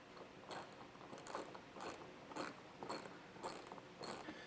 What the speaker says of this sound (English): So to do this, we'll be using an 8mm socket